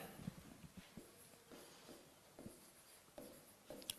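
Chalk or a marker scratches across a board in short, separate strokes, faint and close, with brief pauses between strokes in a quiet room.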